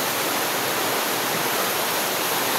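Fast-moving floodwater rushes loudly and continuously, a dense broadband roar of strong current heard up close.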